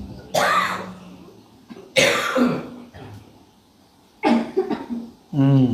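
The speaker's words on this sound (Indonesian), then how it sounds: "Batuk semua." Audience members cough and clear their throats at a religious gathering, several separate bursts from different people with pauses between them and no speech.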